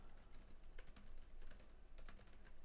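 Fingers typing on the built-in keyboard of a Pinebook Pro laptop, quick irregular clicks of keystrokes heard close and quiet, with no talking.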